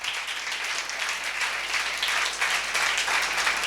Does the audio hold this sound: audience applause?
yes